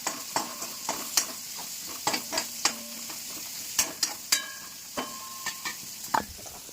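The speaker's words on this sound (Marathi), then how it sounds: "आता मी कांदा मस्त परतून घेणार आहे." Onion sautés and gets stirred in a pan while cooking paneer masala, with a soft sizzle under a run of sharp spatula scrapes and taps that come in irregular bursts, close and clear, with no talking.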